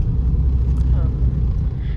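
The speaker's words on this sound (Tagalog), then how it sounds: "Mga sasakyan." Vehicles passing along the Marilaque mountain road in Tanay, Rizal, a loud, steady low engine and tire rumble close by, with brief voices audible over the traffic.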